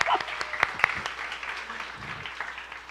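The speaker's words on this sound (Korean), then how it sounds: "박수 한번 주세요" Applause from a youth congregation at a middle-school church worship service, a fairly brief, moderately loud burst of clapping with a few sharper claps standing out early.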